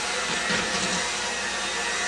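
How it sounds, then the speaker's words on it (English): An electric stand mixer motor droning loudly and continuously as it labors through thick cinnamon roll dough after five cups of flour, a strained steady whir with no voices. "So it's starting to be a little bit difficult for my mixer."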